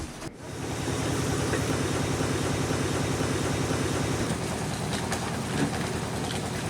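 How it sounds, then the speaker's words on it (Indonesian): Old machinery running steadily in a sugarcane processing mill that turns out palm sugar, a dense continuous mechanical drone with rhythmic low thumping, loud and close throughout after a brief start. "Setiap hari, mesin-mesin di kilang pengolahan tebu terus beroperasi."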